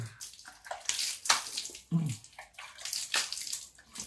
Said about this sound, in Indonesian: Lihat Mas, airnya benar-benar sangat jernih karena ini air daripada pegunungan.